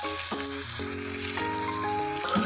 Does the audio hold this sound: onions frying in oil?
yes